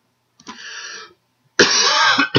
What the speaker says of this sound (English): Need to work on that cough a little bit.